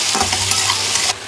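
Beef being stir-fried with soy sauce in a hot pan gives a loud, continuous sizzle with scraping stir strokes. The sound holds steady for about a second, then cuts off abruptly.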